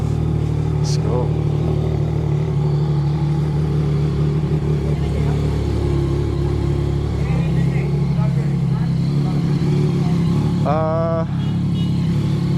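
A 2018 Yamaha XSR900 motorcycle fitted with a Two Brothers S1R full exhaust starts cold, a steady low engine rumble with a brief rising rev near the end, while people talk nearby.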